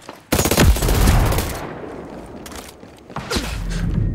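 Gunfire from a firefight in the video game Ghost Recon Breakpoint: loud bursts of rapid shots cracking close by with a whooshing tail, a short lull, then another burst near the end.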